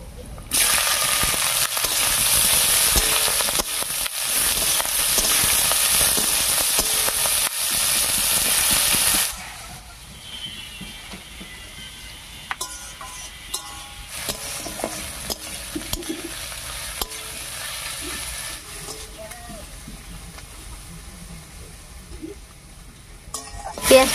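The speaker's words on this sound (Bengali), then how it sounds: "এবার এর মধ্যে দেব পেঁয়াজ কুচি" Chopped onions hit hot oil seasoned with whole spices and fry with a loud, steady hiss and sizzle for several seconds, then settle to a softer crackle while a spoon stirs and scrapes the pan.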